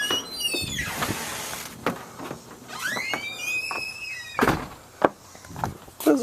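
A squeaky front door swings open with rising and falling high-pitched squeals, followed by knocks, thuds and footstep-like bumps nearby.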